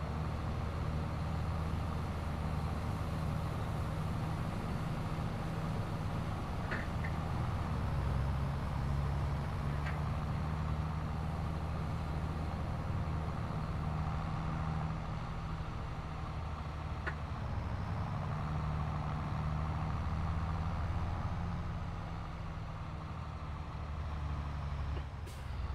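A farm vehicle driving in Farming Simulator 22, heard as a steady low engine drone with a faint whine and a few brief clicks, constant and unbroken for the whole stretch.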